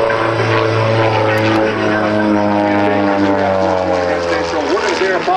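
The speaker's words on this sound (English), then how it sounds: "He's going to roll the airplane across the top" A loud propeller aerobatic airplane engine drones steadily at an airshow, its pitch rising and falling as the plane rolls and maneuvers, close and continuous throughout.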